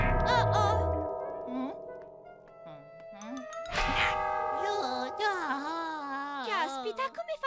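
Bright bell-like dings and chimes ring out in sequence in a cartoon tower, mixed with animated voices talking over a playful musical backdrop.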